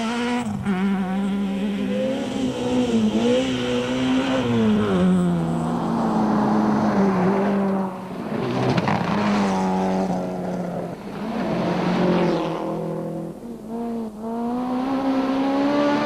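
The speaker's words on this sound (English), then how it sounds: "Adrian Koth and Rikus Fourie are running strongly in their NetConnect VW Golf" A NetConnect Volkswagen Golf rally car races along a stage of the 2005 Volkswagen Rally, its engine roaring close and loud, climbing through the revs, dipping at gear changes and surging again across several shifts.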